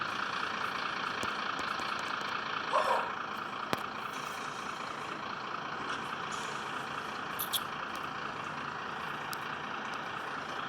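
Mercedes Citaro C2 bus with its diesel engine idling before shutdown, a steady rumbling drone with a brief hiss and a few clicks partway through, continuous for about ten seconds with no talking.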